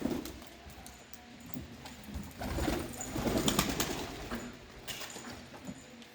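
Wild feather-footed pigeons released outdoors and flying off, with a soft flurry of wing flaps and faint bird sounds over a quiet background, no talk.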